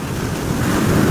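Ocean surf rolls onto a beach at Nato, Camarines Sur, a steady broadband wash of breaking waves with wind noise on the microphone, holding even and slightly swelling toward the end.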